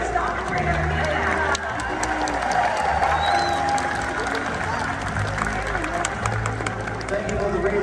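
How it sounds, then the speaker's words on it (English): Spectators at an aquarium dolphin show break into steady applause and scattered cheers, a dense continuous clapping texture filling the space beneath an announcer's voice. "And a round of applause for our newest dolphin trainer,"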